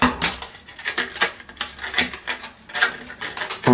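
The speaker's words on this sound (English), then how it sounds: "I'm going to open this up with my scissors" Scissors snipping open plastic packaging from a craft supply haul: a rapid series of sharp crisp clicks and cuts close to the microphone, uneven in rhythm, with no talking.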